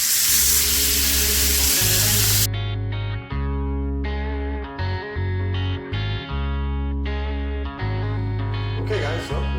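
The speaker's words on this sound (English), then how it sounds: "now my final step is to put the fat cap down and let that cook" The fat cap of a picanha sears in a cast iron skillet with butter, giving a crackling sizzle at close range, while a person talks with pauses over background music.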